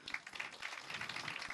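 Audience applause at a music award ceremony: faint, steady clapping from a crowd lasting a second and a half.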